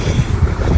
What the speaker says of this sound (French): il y a du vent qui se lève